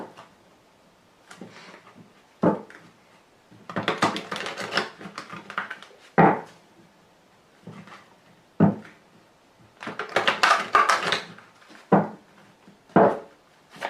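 Lenormand fortune-telling cards, the grand jeu deck, being handled and drawn in a quiet room, giving repeated papery rustles and shuffling bursts separated by short sharp taps as cards are laid down one after another.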